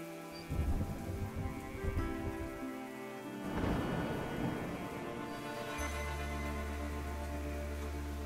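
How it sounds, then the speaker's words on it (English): Rain falls in the video game Endling: Extinction is Forever, a steady hiss with rolls of thunder rumbling in, a loud low drone settling under the downpour near the end. "Rain should help put out the fire."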